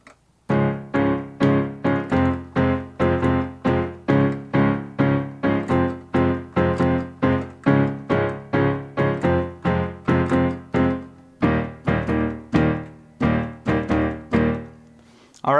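Piano plays the short instrumental section of a song in chords, a steady run of close, evenly repeated chord strikes for about fifteen seconds, then a final sustained chord, with no talking.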